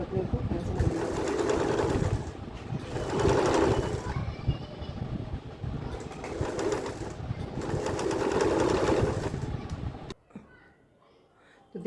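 A sewing machine stitches the neck of a kurti in several rapid whirring bursts separated by short pauses, loud and close, before stopping near the end.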